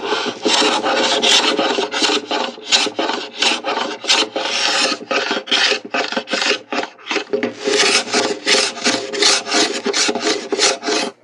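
A plane or file rasps along a classical guitar fretboard in a steady run of close, loud back-and-forth strokes with brief pauses, no talking.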